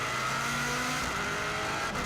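A race car driven hard around the Isle of Man road circuit, its engine droning loud and steady throughout, with no talk.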